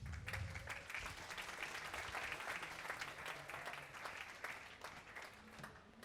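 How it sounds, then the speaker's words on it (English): Audience applause at a talk on sacred geometry, a dense steady clatter of many hands filling the whole stretch at an even level, with faint murmuring underneath. "give a round of applause, guys"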